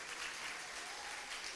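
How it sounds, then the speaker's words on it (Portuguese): A church congregation at a youth conference applauds in a short, continuous wash of clapping, faint and somewhat distant, with no voices over it. "Você pode aplaudir o Senhor?"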